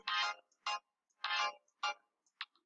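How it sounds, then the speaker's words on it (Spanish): A telephone rings in repeated electronic bursts, several short trilling pulses spaced unevenly, fairly clear and alone with no talk over it. "el bendito teléfono que suena"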